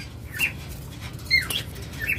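Lovebirds give a few sharp chirps and squawks close by, two or three bright bursts over a low steady background hum, with no one speaking.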